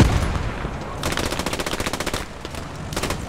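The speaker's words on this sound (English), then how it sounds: "I see that MG." Rapid bursts of machine gun fire in the WWII shooter Post Scriptum, Battle of France, crackle in two loud rattling strings with a brief pause between, a faint voice underneath.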